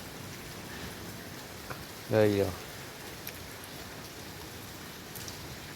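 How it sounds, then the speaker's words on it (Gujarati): Light drizzle falls on a market street at night where water runs along the roads, a faint steady hiss of rain, briefly covered by someone speaking. "વરસાદ ચાલુ જ છે ઝીણી ઝીણી"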